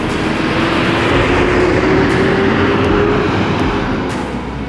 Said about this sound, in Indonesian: Palala pertama E02 yang berangkat hari ini dengan tampilan barunya